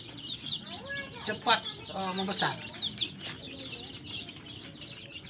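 Farm chickens raised for quick growth cluck and squawk in a lively, irregular chorus at close range, with a voice speaking briefly over them.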